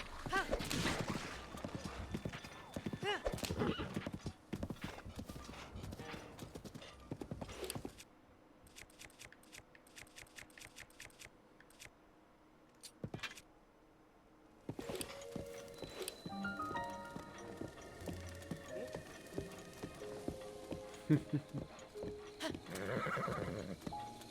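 Horse hooves clip-clop at a gallop in the video game Zelda: Breath of the Wild, running in dense rhythmic bursts with neighs, a calmer stretch of lighter steps midway, then galloping resumes amid game sounds.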